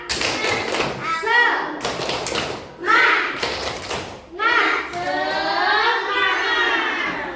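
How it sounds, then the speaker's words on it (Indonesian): Schoolchildren in a classroom chanting a rhythmic clapping cheer together, loud group voices mixed with bursts of claps and thumps in a patterned beat. "Tepuk semangat"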